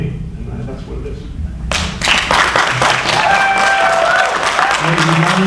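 Audience applause at a political debate between two candidates swells suddenly and holds as a dense, loud clatter of many hands, with a voice speaking underneath at first.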